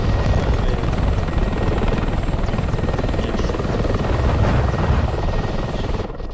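Loud, steady rotor thump and engine drone of a Mi-24 helicopter in the DCS flight simulator, continuous and close throughout with no voices.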